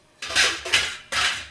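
Three quick bursts of scraping and clattering ring out as fried gongura mix is transferred onto a plate, metal and dishware rattling close and fairly loud with brief pauses between.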